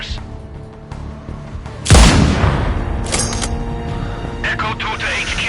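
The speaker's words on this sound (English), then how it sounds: "Explosion heard. Location unclear." A sudden loud blast with a low rumbling tail, followed by lingering noisy debris and rumble, set against a background of steady ambient game sound in Sniper Ghost Warrior Contracts 2.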